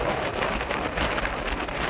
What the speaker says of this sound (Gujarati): વરસાદ છે ચાલુ છે